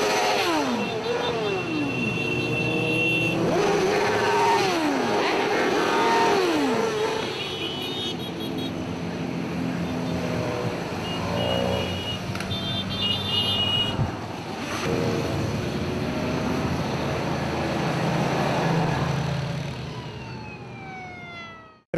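Motorcyclists ride in a parade procession to the Hôrka resort at Zemplínska Šírava, a loud continuous engine roar mixed with sirens sweeping up and down nearby, with no talking.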